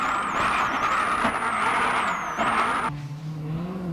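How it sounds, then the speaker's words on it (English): A Ford Focus WRC rally car spins on a gravel stage at the 2007 World Rally Championship, its engine roaring loudly up close with revving pitch changes before dropping to a lower drone. "this spin on stage 12, the last of day 2, would hand fourth place to Sordo"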